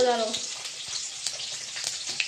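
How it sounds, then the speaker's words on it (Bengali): Cumin seeds sizzle in hot oil as a tempering for cabbage, a steady close crackle and hiss. A voice is heard briefly at the start. "জিরে ফোড়ন দিয়ে দিলাম তো দেখুন জিরেটা ঠিকঠাক হয়ে গেছে"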